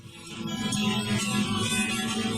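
A dense, loud wash of distorted guitars and drums plays continuously, a thick rock mix from a 1994 single, with no clear pauses or speech.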